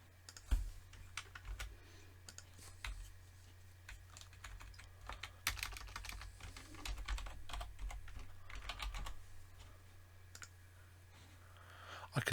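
Computer keyboard typing and mouse clicks while building a software automation, a long run of quiet, close, irregular clicks and key taps over a steady low hum.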